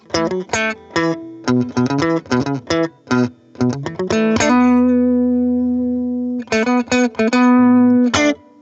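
Overdriven electric guitar through a JHS pedal, playing choppy, rhythmic chords, then a long sustained ringing chord before a few more stabs; loud, no voices.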